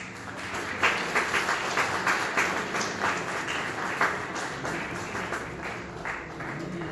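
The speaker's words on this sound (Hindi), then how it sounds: "सुमित के लिए जोरदार तालियां।" An audience at a railway week award ceremony in Bikaner breaks into sustained applause, with a dense, even clapping that pulses slightly throughout and has no talk over it.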